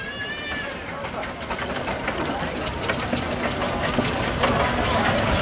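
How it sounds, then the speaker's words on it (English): A 4-inch scale Foster agricultural steam traction engine chuffs and hisses steadily at close range, with a bright whistle-like tone at the start and voices talking over the machinery. "the 4-inch scale Foster agricultural engine, owned by Mr. Anthony Dillon"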